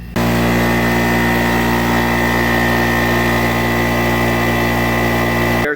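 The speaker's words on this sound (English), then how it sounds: "This is a larger, a little more industrial size air compressor." Larger, industrial-size air compressor charging, a steady loud motor drone with even harmonic hum that runs nearly six seconds alone, cutting off abruptly at the end.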